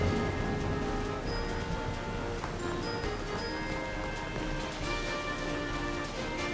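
Steady rain and stormy weather from Pokemon Violet, a broad continuous hiss of falling rain that holds at an even, moderately loud level throughout, with faint bright tones from the game sitting on top.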